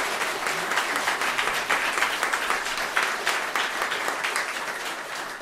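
Concert hall audience applauds to welcome a Horňácko cimbalom folk band, steady, fairly distant clapping from many hands that fills the whole stretch without talk.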